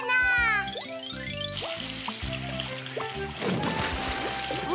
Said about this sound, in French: Mon canard fait plein de bulles.